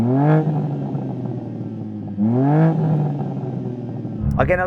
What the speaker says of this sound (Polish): I'm gonna rev up my European car